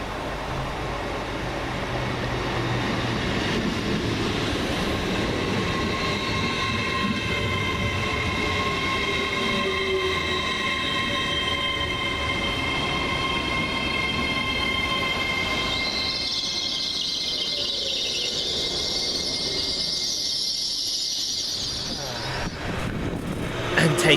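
TransPennine Express unit 802209 on a Newcastle to Liverpool Lime Street service at Newton-le-Willows station: a steady close rumble of a passing train with tonal whine and rail noise throughout, a brief brighter squeal of wheels near the end.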